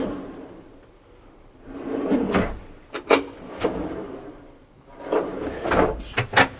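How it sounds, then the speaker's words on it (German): Self-closing kitchen drawers in a 2021 Mercedes-based HRZ Casablanca 4x4 motorhome slide open and glide shut several times, with soft rolling rumbles and clicks as each settles closed; nearby, fairly loud. "als du da die Schublade aufgemacht hast"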